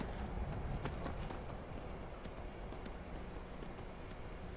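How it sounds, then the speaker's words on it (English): Horse hooves trot in Skyrim, a steady clip-clop of hoofbeats at a slow pace, fairly faint and even, with no talk. "Oh god, the horse is so slow!"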